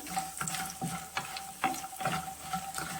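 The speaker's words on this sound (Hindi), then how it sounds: "मखाने को भी धीमी गैस पर भून लेना है।" Fox nuts (makhana) roast in ghee in a pan over low heat, with a soft sizzle and regular scraping stir strokes about every half second, close and moderately quiet.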